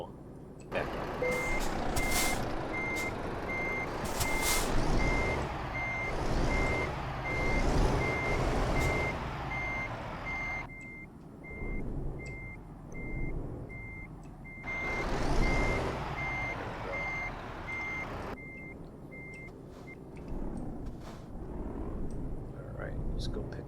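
Euro Truck Simulator 2 truck reversing, its beeper sounding in a steady rapid train over the low engine hum, with someone talking across most of it.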